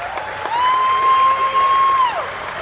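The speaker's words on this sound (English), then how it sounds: "Could I ask for a round of applause for John Wirt?" Applause from the audience at an indoor archery tournament, the Lancaster Archery Classic barebow finals, rising into a steady round of clapping with a long electronic tone sounding over it.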